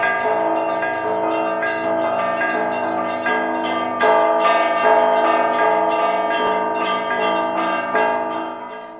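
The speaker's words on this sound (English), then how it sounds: "But the most important thing about these bells was their sheer volume." Loud, clangorous Russian church bells ringing continuously, with rapid repeated strikes of smaller bells over deep sustained tones, close and dense throughout.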